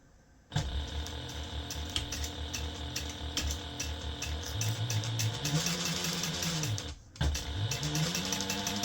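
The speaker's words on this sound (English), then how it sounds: "And we're going to sew using a 1/2 inch seam allowance." A sewing machine runs a 1/2 inch seam through fabric in one long, close, mechanical whir with a rising and falling motor pitch, stopping briefly near the end before starting again.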